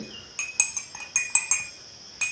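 A spoon stirring turmeric into water in a glass, with about eight bright clinks against the glass in an uneven rhythm, close and clear with no talking.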